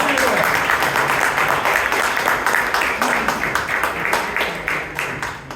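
Audience at a Toastmasters club meeting breaks into sustained applause, a dense roomful of clapping with distinct sharp claps standing out, steady and fairly loud before tapering off slightly.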